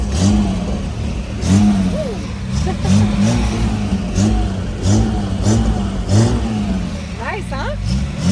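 The V12 engine of a 1974 Jaguar XKE with a 4-speed roars through repeated revs from a cold start, rising and falling loudly up close, while people talk over it.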